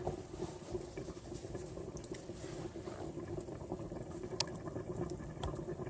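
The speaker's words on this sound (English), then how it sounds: "It is bubbling, as you can see." Pork cacciatore bubbling in a skillet, a steady, close simmer of dense popping bubbles that continues evenly throughout with no talking.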